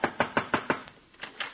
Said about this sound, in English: Knock on the door and tell the woman you'd like to give her a beauty treatment.